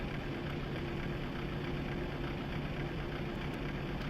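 Airliner jet engine spooling up during startup in Flight Simulator 2004, a steady loud droning rumble with a sustained hum and no voices.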